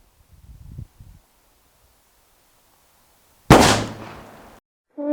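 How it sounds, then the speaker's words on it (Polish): A Derringer Unicorn pistol fires a single sharp, loud shot into a pumpkin, with a brief ringing tail after a few soft handling noises, then a short cut-off burst at the end. "Zobaczymy zresztą jak to, jak to strzela."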